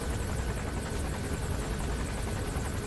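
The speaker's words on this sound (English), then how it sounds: "So just now the helicopter has to pass over your head." A helicopter passing overhead in the video game Metal Gear Solid V: The Phantom Pain, its rotor drone steady and broadband, loud and close, filling the clip with no voices.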